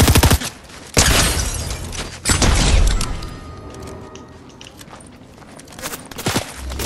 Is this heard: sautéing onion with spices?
no